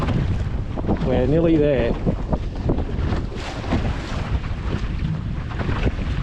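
Strong wind gusts roar over a small sailing dinghy out on the water off Bribie Island in South East Queensland, a steady blustery rush with sea noise beneath, while people talk over it.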